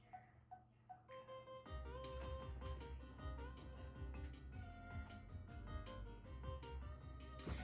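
A music disc plays in Minecraft's Copper Age update, starting with a few sparse plucked notes and then breaking into a full, steady tune with a beat.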